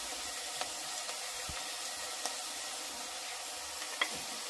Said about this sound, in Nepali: अब किनिमालाई चाहिँ हामीले फ्राई गर्नुपर्छ यसरी।